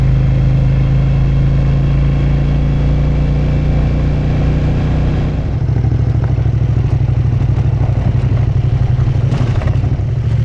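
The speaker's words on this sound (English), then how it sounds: "Might just turn the engine off here." A car engine idles steadily and close, a low constant hum with light clatter that shifts in tone partway through, on a ride in the Watagans area.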